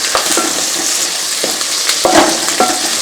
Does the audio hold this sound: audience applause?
no